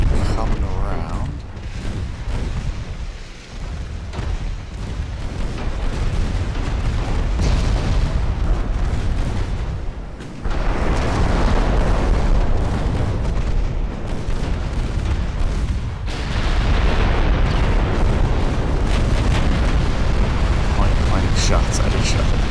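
Naval gunfire from warships in the video game Ultimate Admiral: Dreadnoughts: heavy booming salvos and deep rumbling blasts that keep rolling in waves, loud and continuous, with a voice talking over them.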